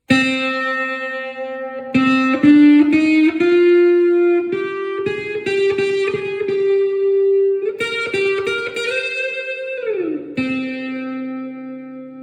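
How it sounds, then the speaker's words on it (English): Sustained octave-fuzz electric guitar notes with a thick, distorted tone, run into reverb and delay with a lingering tail, played alone with several held notes and bends. "essentially be doing an octave fuzz into reverb and delay"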